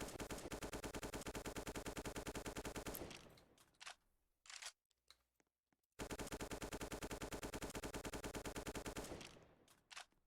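Rapid automatic gunfire from a Roblox video game gun system: two long, loud, steady bursts split by a short near-silent gap with a few isolated shots.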